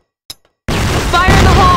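A flash bomb in the video game Crossfire gives a small pop, then a loud sustained burst that fills the rest of the moment with a ringing, whining tone.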